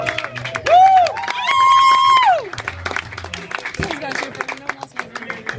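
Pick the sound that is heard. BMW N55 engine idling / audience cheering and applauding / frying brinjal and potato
audience cheering and applauding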